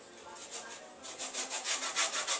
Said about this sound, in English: This is Amy grating the lemon to go on top of the apple crumble